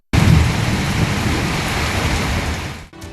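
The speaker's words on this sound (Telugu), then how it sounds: "కుండపోత వర్షాలే కాదు, వాటితో పాటు ఉరుములతో కూడిన మెరుపులు, చెవులకు చిల్లుపడే శబ్దాలతో పిడుగులు" Heavy monsoon thunderstorm with dense, hissing downpour and a low rolling rumble of thunder, loud and continuous before cutting off near the end.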